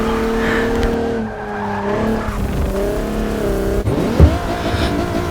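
Old Alfa Romeo race car in the Forza driving game, its 200-horsepower engine droning loudly and steadily with rising and falling revs while tires squeal and skid through corners.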